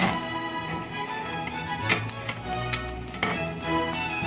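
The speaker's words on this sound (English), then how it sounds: "I'm going to let it sizzle at low." Egg fried rice with noodles sizzles steadily in a pan, a soft continuous frying crackle with light scraping and tapping of a utensil, close and fairly quiet, with no talking.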